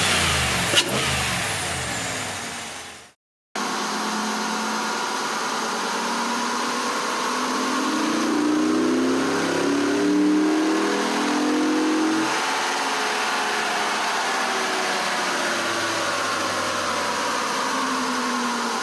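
A 2019 Ram Rebel pickup with a 5.7 Hemi V8 and a Vararam cold air intake revs loudly and steadily, the engine note swelling through a long rise with a short cut in sound early on.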